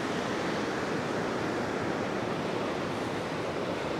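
Sea waves break on a beach at high tide at Praia dos Ingleses in Florianópolis, a loud, steady wash of surf rumbling continuously with no voices over it.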